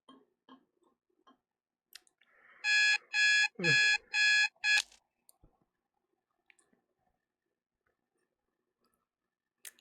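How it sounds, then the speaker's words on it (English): An alarm clock rings in the video game Loving Life, five quick, loud electronic beep bursts in a row, surrounded by quiet scattered clicks and near silence. "The alarm clock called for me 3 hours before my appointment."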